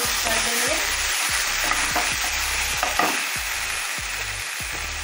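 Onions tossed with vinegar and green chili sauce in a frying pan for chowmein-style Maggi, sizzling steadily while a utensil scrapes and stirs in repeated strokes, close and fairly loud with no talking.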